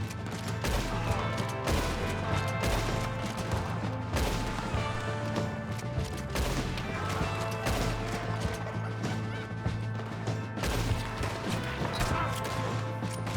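Gunfire in the Western game Red Dead Redemption crackles in rapid, loud shots amid clattering hooves and dense action noise, continuing steadily throughout without talking.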